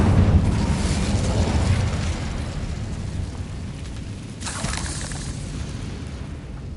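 A fire spell cast in the video game Hogwarts Legacy gives a roaring, rumbling burst that fades over several seconds, with a brighter crackling flare partway through. A voice speaks the spell's name at the start.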